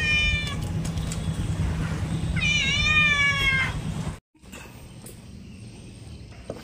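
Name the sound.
cat meowing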